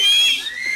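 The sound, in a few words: audience member whistling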